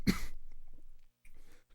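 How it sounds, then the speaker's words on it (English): A harsh cough right after chugging a drink, followed by a quieter second cough a moment later, close and alone. "Coughing instead of burping"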